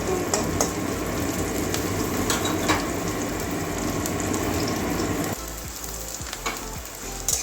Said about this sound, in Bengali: পেঁয়াজটা ভালো করে ভেজে নেবো, হালকা লাল লাল করে, মানে বাদামি কালার পর্যন্ত।